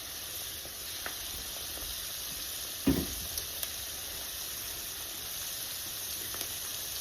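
Onion petals fry in batches in a skillet, giving a steady, faint hiss with a few soft clicks and a single duller knock midway.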